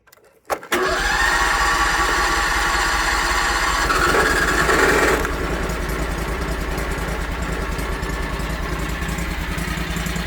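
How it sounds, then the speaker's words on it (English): A gas engine on a YFE 18 mini excavator cranks briefly and catches, then runs loud and steady, its revs easing down to a constant idle after a few seconds; no voices. "this is a gas-powered engine"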